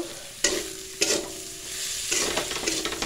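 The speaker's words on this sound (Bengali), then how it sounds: "ভালো করে মশলাটা কষিয়ে" Ground cumin paste masala frying in a pan, with a few sharp spatula scrapes and stirring strokes over a steady close sizzle, no voices.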